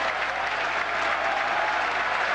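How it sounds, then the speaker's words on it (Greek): Panathinaikos basketball fans clap in a dense, even wash of applause that fills the arena, loud and unbroken from start to finish with no voice over it. "Χειροκροτήματα από τους οπαδούς του Παναθηναϊκού που ξεσηκώνονται."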